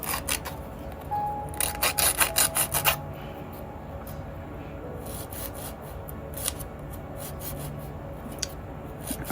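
A nail file rasps across a hard gel nail in quick, close strokes, with a louder burst of rapid back-and-forth filing in the middle and lighter, scattered scraping before and after.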